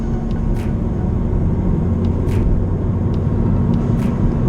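Cars passing on an open road during an Audi TT performance test stop, a steady broadband traffic rumble with a few brief high whooshes, no voices.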